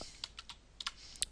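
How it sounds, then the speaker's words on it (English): Quiet keystrokes tap on a computer keyboard during spreadsheet data entry, about eight sharp clicks in an irregular rhythm, close and alone. "I'm typing them exact as they are there"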